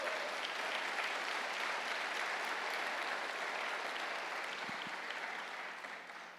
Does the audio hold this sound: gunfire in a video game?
no